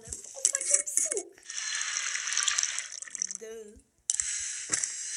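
Juice being made in the Toca Kitchen 2 video game, with watery, pouring, tap-like game sounds that briefly drop out, and a voice speaking over them.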